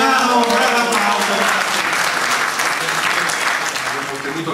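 A crowd gives a mayoral candidate from the Movimento 5 Stelle in Legnano loud, sustained applause, dense clapping throughout that fades slightly toward the end.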